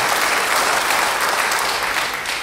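A church congregation applauding during a sermon, a dense, sustained wash of clapping from many hands that carries on evenly and eases slightly at the end.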